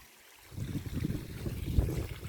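Mountain stream water flowing steadily below alpine pines at Stubnerkogel in the Alps, a continuous low rushing wash that swells after a quiet start and runs on with no voices.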